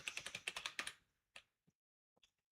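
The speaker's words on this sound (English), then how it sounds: "use the audio, I prefer to type" Quick, close computer keyboard typing, a rapid burst of crisp keystrokes for about a second, then a few isolated taps in near silence with no voices.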